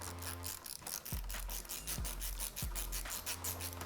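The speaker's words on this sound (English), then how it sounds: "So now I'm gonna grab a 10mm socket" A 10mm socket ratchets against a nut on a 2007-2012 Honda CBR600RR motorcycle, a few rhythmic clicking and rubbing strokes close up, quiet overall, no talk.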